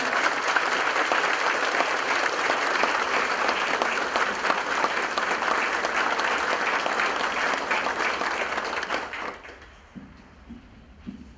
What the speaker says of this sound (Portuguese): eu peço uma salva de palmas para manifestar esta alegria